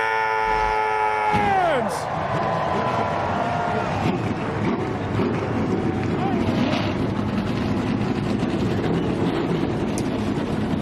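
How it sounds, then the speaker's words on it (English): A dense roar of many NASCAR stock car engines fills Las Vegas Motor Speedway after a descending tone at the start, steady and loud throughout like a crowd of race cars idling. "The engines have fired."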